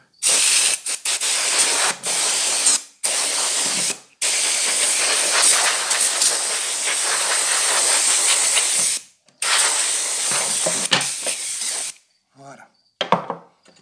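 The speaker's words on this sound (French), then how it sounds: "Et on finit par un petit coup de bombe à air." A can of compressed air blasts dust out of the inside of a ballast, in long loud close hissing bursts separated by short pauses, with brief clattering handling noises at the end.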